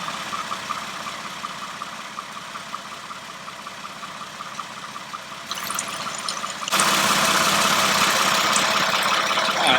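Transmission fluid spills from the check plug of a Toyota Venza with the engine idling: a low, steady idle hum, then a louder broadband splashing rush over the last few seconds.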